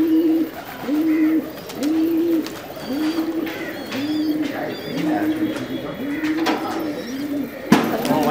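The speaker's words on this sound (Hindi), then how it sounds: "अभी बार आपने देखा ये अब्दुल्ला भाई के कबूतर हैं।" Pigeons in a loft coo repeatedly in a steady rhythm, several soft rolling calls close by, with faint chirps and rustling around them.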